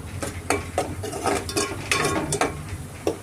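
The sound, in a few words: masala frying in oil for korameenu fish curry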